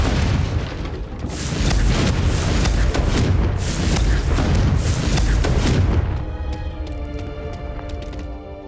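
A Confringo fire spell explodes repeatedly in the Hogwarts Legacy video game, with dense rumbling booms and blasts for several seconds. The blasts then give way to softer, tonal sounds.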